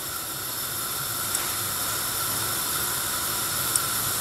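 Crêpe batter cooks in a hot pan with a steady, even hiss that holds throughout, with a couple of faint ticks and no talk.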